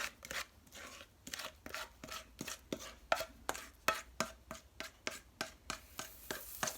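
Leftover sourdough pancake batter being scraped from a bowl with a utensil, producing a steady run of short, crisp scrapes at a quick, fairly even rhythm, close up and alone with no talk.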